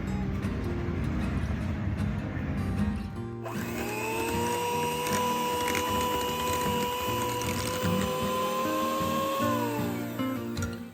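An electric beater mixes butter cookie dough with added fresh cream, first as a rough churning buzz, then as a steady high motor whine that holds its pitch and drops off at the end.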